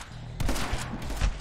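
Rapid gunfire from the side-scrolling shooter game My Friend Pedro, a burst of loud close shots layered over a low game music bed, with sharp impacts clustering around the middle and end.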